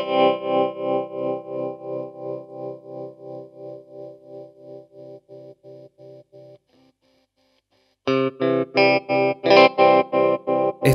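Electric guitar through a Boss TR-2 tremolo pedal: sustained chords pulse rhythmically in volume, a smooth steady throb that slows and fades, then after a brief silence a louder chord chops on and off in a hard square on-off pattern.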